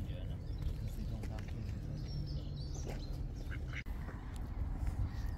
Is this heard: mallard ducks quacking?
yes